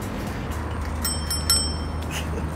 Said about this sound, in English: Like you want to ring a bell, would you like to ring one?